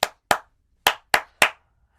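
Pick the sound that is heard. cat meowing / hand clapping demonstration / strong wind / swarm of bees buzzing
hand clapping demonstration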